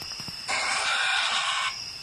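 Onix's growl cry in Pokemon Go, a loud, harsh burst of about a second with a rasping screech quality, standing alone after faint ambient sound.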